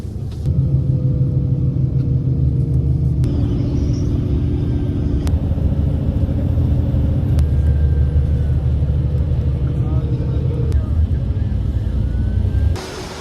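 Inside a crowded E101 intercity bus on the road from Dubai to Abu Dhabi, a loud, steady engine rumble and road drone fill the cabin, with a few abrupt shifts in tone.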